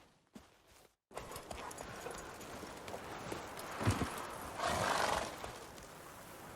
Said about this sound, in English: Truly swift, this mare.